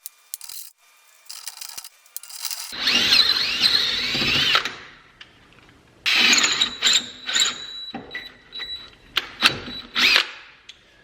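Power drill bores out a brake caliper bracket hole on a Nissan 240SX S13, in loud grinding, whirring bursts that start and stop, with gaps of quiet between shorter spurts near the end.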